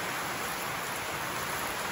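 Steady, dense rainfall hisses evenly throughout, a constant broadband wash with no pauses or voices.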